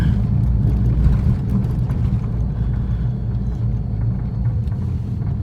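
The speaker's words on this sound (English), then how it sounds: "there's a truck coming" A truck drives past on a road, heard as a low, steady engine rumble that fills the whole stretch, nearby and fairly loud, with no one speaking.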